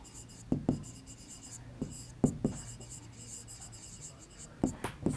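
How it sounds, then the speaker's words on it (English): Writing on a board during a maths lesson: scattered quick taps and short strokes of the marker or chalk, close and fairly quiet, with faint breathy background. "Let us first write it here."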